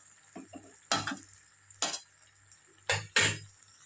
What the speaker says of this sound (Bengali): আবারও কষতে থাকবো।